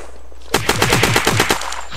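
Automatic gunfire in the video game Unturned: a rapid burst of about ten loud shots in quick rhythm, starting suddenly and ending after about a second.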